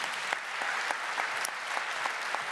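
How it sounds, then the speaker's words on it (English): Continuous audience applause at a medal ceremony honoring W. E. B. Du Bois Medal recipients, a dense steady patter of many hands clapping with a few sharper claps standing out. "Please give them a round of applause."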